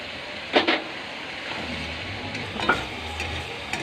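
Spice masala sautés in a pan for chicken curry, a quiet low sizzle punctuated by a few sharp spoon-on-pan scrapes and clinks.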